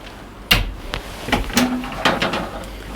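A solid stainless steel refrigerator door in a 2021 Sunseeker Predator 55 EVO yacht galley swings shut with a firm thud, followed by a few lighter knocks and rattles close by.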